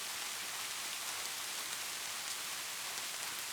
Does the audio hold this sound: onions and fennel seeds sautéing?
no